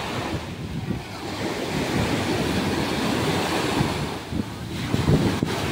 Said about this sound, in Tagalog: ang lalaki ng mga alon